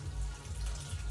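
Water pours steadily from the spout of a watering can, a continuous close splashing stream with a low rumble, no voices.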